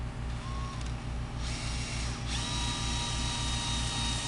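A power drill spins an attachment that strips leftover reflective tape adhesive from a bus under conversion, a steady close mechanical whir with a rhythmic grinding pulse and a rising pitch partway through.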